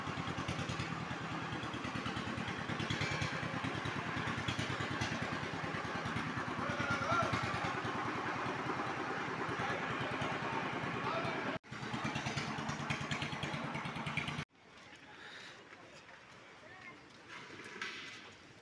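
A Changfa diesel engine motor van runs with a loud, clattering, unmuffled drone that holds steady, with a brief cut before its rumble continues more quietly.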